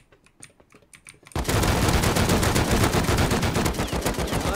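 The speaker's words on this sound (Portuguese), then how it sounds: "Eu não quero sair pra fora, porque senão ele me atira." In the survival video game Rust, a few faint clicks give way to a sudden, sustained burst of rapid automatic gunfire from an enemy, loud and dense, continuing without pause to the end, with no talking.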